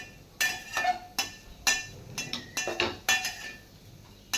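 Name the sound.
sautéing grated coconut mixture in ghee in a pan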